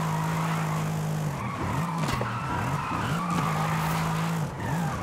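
Mercedes E63s AMG in Forza Horizon 5 sliding through a drift, tires squealing steadily in long wavering streaks over a loud, revving engine, close and continuous.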